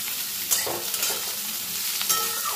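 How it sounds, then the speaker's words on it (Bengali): Sliced onion and potatoes stirred in a hot pan, a steady close sizzle with intermittent scraping strokes of a spatula against the metal. "পেঁয়াজটা দিয়েও আলুর সঙ্গে আমি কিছুক্ষণ নাড়াচাড়া করে নেব।"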